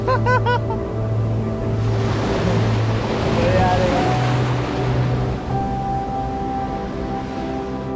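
Ocean waves and surf at Anjuna Beach, Goa, a continuous wash of water with wind buffeting the microphone, accompanied by faint distant voices and a steady tonal hum.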